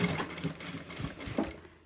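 A sewing machine stitches down the flap of a large fabric beach bag, running in quick loud bursts with short pauses between runs, close to the microphone.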